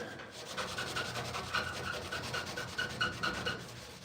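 Old white paint being rubbed firmly by hand, a quick, steady series of faint scrubbing strokes, close and rhythmic with no talk.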